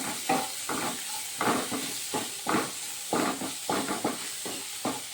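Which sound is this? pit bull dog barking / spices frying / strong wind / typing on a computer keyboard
spices frying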